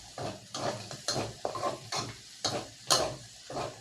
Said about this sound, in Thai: คั่วจนพริกกับกระเทียมหอมนะครับส่งกลิ่นหอมกลิ่นฉุนนะครับ